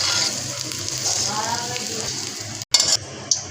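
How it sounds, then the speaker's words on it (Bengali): An egg sizzles and fries steadily in hot oil in a pan, a continuous close crackle with a brief break near the end. "যে ডিম হয়ে গেল, ডিমটা ভাজছে"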